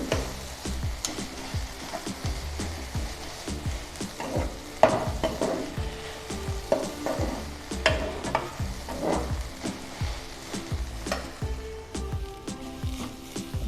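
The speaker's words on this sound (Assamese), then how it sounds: "এয়া মই ভাজি আছোঁ" Taro leaves frying in a pan with turmeric and a sour ingredient, no water added, heard as a soft sizzle beneath rhythmic, repeated spatula scrapes and stirring strokes, fairly quiet and close.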